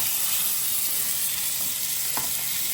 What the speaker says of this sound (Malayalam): നമുക്കതൊന്ന് രണ്ട് സൈഡും നല്ല ഫ്രൈ ആയി ഇതേപോലെ നമുക്ക് മിക്സ് ചെയ്ത് സെറ്റാക്കി എടുക്കാം